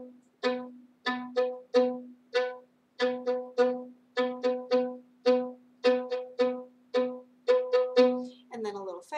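A bowed string instrument plays a slow bouncing ricochet stroke, clusters of short plucky bounces on a sustained low pitch falling into a steady rhythmic pattern, close and clear, ending with a quicker flurry of notes.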